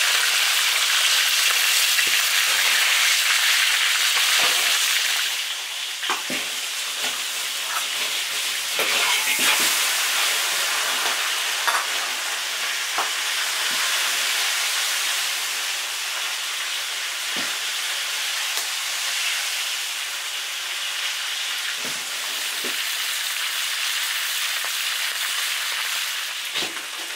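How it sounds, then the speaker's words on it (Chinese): Loud, steady frying sizzle of yellow catfish in an iron wok, easing slightly after a few seconds, with scattered spits, pops and light utensil knocks and no talking. "先把黄骨鱼煎一下。"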